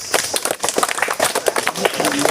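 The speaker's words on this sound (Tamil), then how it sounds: "காஞ்சி போனது யார் சொன்னது அவருக்கு ஒரு கைத்தட்டுங்க" A small group of students in a classroom clap for a classmate's answer, with brisk, uneven hand claps running steadily throughout, close and fairly loud, with a little voice mixed in.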